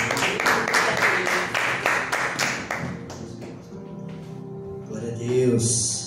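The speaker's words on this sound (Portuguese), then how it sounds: "E as palmas ao Senhor Jesus" Rhythmic congregational clapping in a church service, loud even beats for a few seconds before they fade and scattered voices and music take over.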